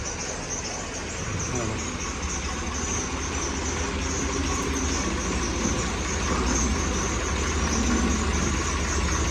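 A low tractor engine idles steadily with a constant rumbling drone, continuing throughout without revving.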